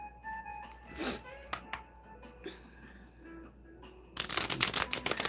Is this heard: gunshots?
no